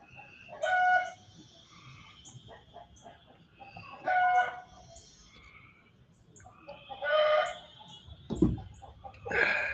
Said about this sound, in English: I don't know if y'all can hear my chickens cackling back there.